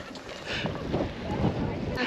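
Strong wind blows over a rocky sea coast near a harbor, buffeting the microphone with a steady, roaring rush. There may be a faint voice underneath.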